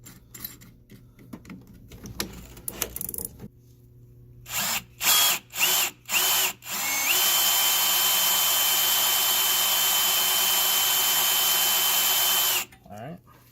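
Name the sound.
small drill bit boring a hole in BMW E36 part in vise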